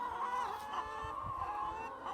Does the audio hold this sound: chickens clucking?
yes